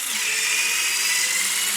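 A HYTORC centerlock wheel gun tightens a car's rear wheel hub, giving a loud, steady, high-pitched mechanical whir that runs unbroken throughout with no pauses.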